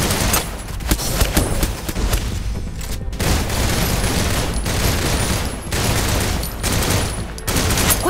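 Sustained heavy gunfire from the mobile shooter Snowbreak: Containment Zone, dense rapid bursts roaring almost without pause, loud and close, with a brief break in the middle.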